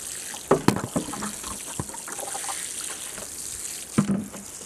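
Water being poured into a container, a soft trickling splash with a couple of sharper spills, close and moderately loud in a quiet outdoor garden setting.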